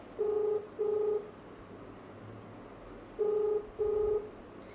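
Two pairs of steady electronic dialing tones, each pair a quick double beep, separated by a pause of quiet line hiss.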